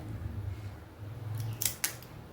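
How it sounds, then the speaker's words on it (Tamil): Crispy seepu murukku, a fried Tamil snack, bitten twice in quick succession, giving two sharp, close crunches over a low background hum. "இப்போ நான் சாப்பிட்றேன் மொறு மொறுன்னு"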